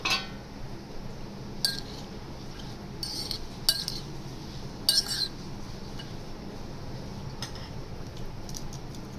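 Metal spoon clinks against a pot while green chillies for pickle are stirred, a few sharp scattered taps over a steady low background, no talking.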